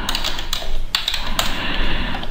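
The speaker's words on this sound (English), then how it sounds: "some test data that just I'm typing in to complete this really quick." Fast typing on a computer keyboard while filling in test data on a form, a steady stream of close, crisp clicks with a few louder keystrokes standing out, no voices.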